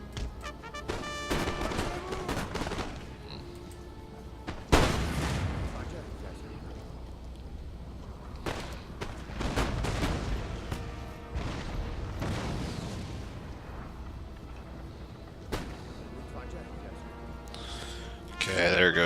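Artillery booms and musket volleys from a Napoleon: Total War battle in the Egypt campaign, several heavy blasts and crackling bursts spread across the scene, with voices speaking between and over them.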